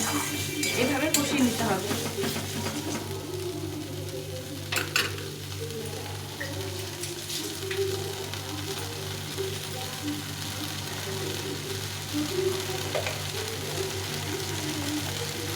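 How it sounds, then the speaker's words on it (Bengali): Shol fish gravy simmers and sizzles in a pan after a bowl of water is added, with stirring scrapes and light utensil clinks in the first seconds, then a steady low bubbling sizzle throughout. "বাটি দিয়ে জল দিয়ে এটাকে ভালো করে কষিয়ে দিই"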